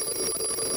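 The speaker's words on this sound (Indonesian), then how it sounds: "bunyi jam penggerak" An alarm clock rings with a steady, continuous high-pitched electronic tone, loud and close, with no speech over it.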